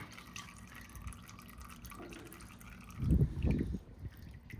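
Gear fluid drains from the center section drain of an FFR Mk5 Roadster car differential, a faint trickle and drip that swells into a fuller splashing pour partway through, with no talk.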